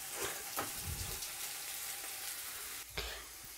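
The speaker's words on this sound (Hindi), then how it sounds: "प्याज जब भी डालिए तो हाई फ्लेम पे कर दीजिएगा।" Onions fry in a pan over a high gas flame for methi matar malai, giving a dense, steady sizzle close by with a few soft stirring scrapes.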